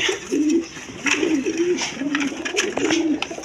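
Short face pigeons coo nearby in a repeated rolling rhythm, about five low throaty phrases over a faint background of soft rustling and clicks.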